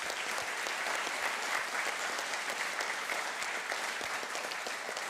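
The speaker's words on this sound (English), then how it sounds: "let's have a round of applause for the entire committee." A conference audience applauds a committee with a steady, even wash of many hands clapping, held at a constant level for several seconds and heard from within the room, with no voices over it.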